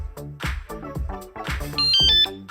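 A cheap remote-controlled anti-theft alarm for a motorcycle or bicycle sounds on activation with a loud, close run of electronic siren chirps and tones, rising into a high warbling beep toward the end.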